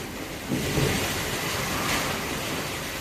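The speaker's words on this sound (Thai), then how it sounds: "ณ ตอนนี้ประเทศจีนฝนตกหนักมากเลยค่ะ" Heavy rain pours down steadily in China, a dense, constant hiss with no breaks and no voices.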